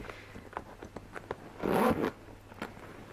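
A zipper on the back tech pocket of a Jujube Everyday Tote is pulled in one quick, close rasping run, preceded by soft fabric ticks and handling taps, with no talk.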